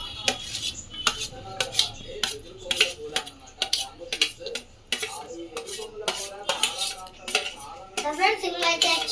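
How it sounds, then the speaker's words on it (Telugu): A metal spoon repeatedly scrapes and clatters against a pan while a bread pizza mixture of tomato and other ingredients roasts, giving sharp irregular clinks and scrapes close up. "సో ఇప్పుడు మనమైతే ఇలా అంతా రోస్ట్ చేసుకోవాలి"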